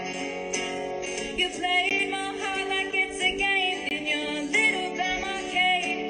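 A friend's song plays back as a dense recording of layered instruments with sustained tones and steady rhythm, continuous and fairly loud throughout with no talking.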